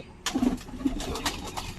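A young pigeon coos softly nearby in a short series of low, rolling notes, with faint rustling around it.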